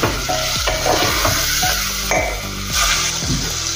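Spices with red chili powder and turmeric stirred in a hot pan, a loud close sizzle with rapid repeated scraping strokes of a spoon against the metal, continuous throughout.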